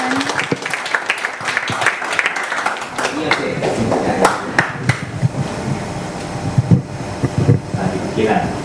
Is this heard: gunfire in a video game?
no